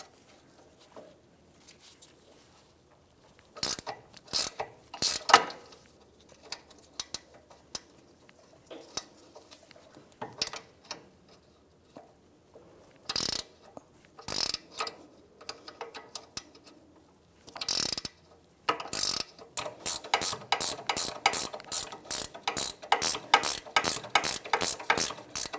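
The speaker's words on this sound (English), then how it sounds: "19mm wrench. Let's see if we can get this down to tighten." A 19mm wrench ratchets to tighten a ball joint nut during a CV axle replacement on a 2011-2016 Hyundai Elantra. Sharp clicking bursts come close and separated by quiet gaps, then a faster, regular run of clicks at the end.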